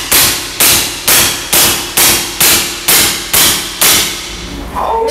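Nine sharp, evenly spaced shots from a semi-automatic big-game air rifle at about 2000 PSI crack in rapid succession, each a loud pneumatic pop with a short decay, followed by a brief mechanical rattle.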